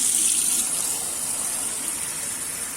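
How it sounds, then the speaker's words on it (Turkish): Water pours steadily into a vinegar cleaning mixture for a fridge, a continuous close gushing rush with no talking. "Şimdi azıcık da su ilave edelim."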